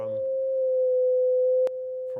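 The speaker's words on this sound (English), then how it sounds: "So that's a sine wave." A steady pure electronic sine tone holds for about two seconds, fairly loud and alone, with a brief click near the end before it drops slightly in level.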